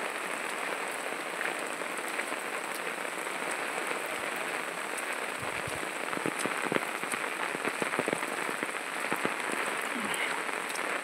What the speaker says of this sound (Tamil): மழைகளே மழைகளே